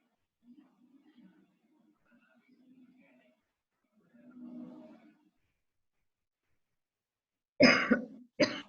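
A webinar presenter working from home coughs after speaking at length, with a few soft murmurs and a low throaty sound first, then two sharp, loud coughs close to the microphone near the end.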